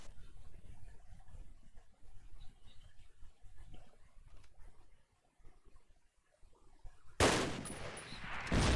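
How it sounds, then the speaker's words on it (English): Gunfire in a competitive video game tournament match: a sudden loud burst of shots erupts near the end after a long stretch of quiet, low ambient rumble. "Shots exchanged, but no hits."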